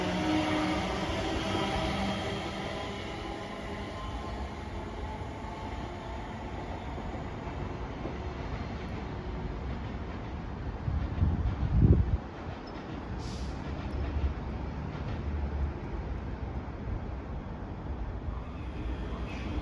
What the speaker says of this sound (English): out now is the 1502 ScotRail service from Edinburgh Waverley to Dunblane